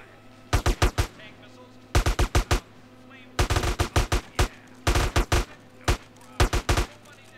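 Gunfire in GTA San Andreas, sharp close shots in tight clusters of three to five, bursts spaced about a second apart over a low steady hum.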